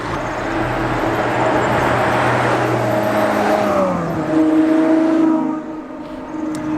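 Three Ferrari 812 sports cars pass during the 1000 Miglia classic road event in Italy, a loud sustained engine roar with shifting tonal whine that swells and then fades as they move away.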